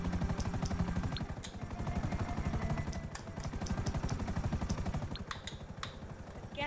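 Helicopter rotor chopping steadily in GTA V Online, a continuous loud pulsing drone with engine hum and occasional clattering gameplay sounds layered on top.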